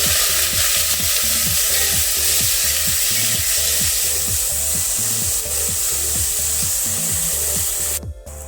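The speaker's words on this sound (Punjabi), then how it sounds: "ਜੀਰਾ ਭੁੰਨ ਹੋ ਗਿਆ ਇੱਥੇ ਪਿਆਜ਼ ਆਪਾਂ ਦੋ ਪਿਆਜ਼ ਵੱਡੇ ਗ੍ਰੈਂਡ ਕਰ ਲਏ ਸੀ ਇਹਨਾਂ ਨੂੰ ਪਾ ਦਵਾਂਗੇ ਮਿਕਸ ਕਰ ਦਵਾਂਗੇ" Grated onions fry in a pan with toasted cumin for an aloo soya chunk sabji, a loud steady sizzle under a regular rhythm of stirring strokes scraping the pan, with no talking.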